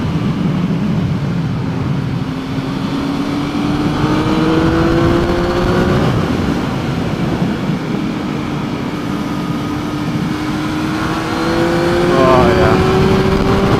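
A Triumph Speed Triple R motorcycle engine pulling on torque through bends, a continuous droning note rising and falling with throttle under wind rush, a rider's voice briefly heard over it.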